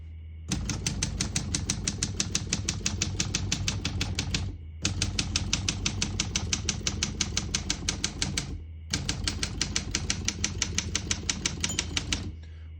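Rapid typing on a 1974 Olympia SM-9 portable typewriter, dense rattling keystrokes in three long bursts separated by brief pauses, close and loud with no voices.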